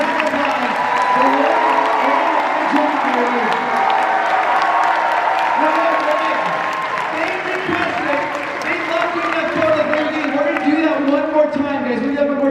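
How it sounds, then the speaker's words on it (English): A crowd at a Lord of the Rings fan convention applauds and cheers the cast, a dense sustained clapping roar with scattered whoops while voices carry over it. "can you please give a huge round of applause"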